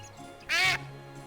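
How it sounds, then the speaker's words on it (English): Single bright duck quack from the video game Escape From Monkey Island, a short nasal squawk rising out of quiet background tones, clear and close. "And a duck."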